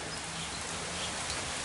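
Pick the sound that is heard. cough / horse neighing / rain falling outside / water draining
rain falling outside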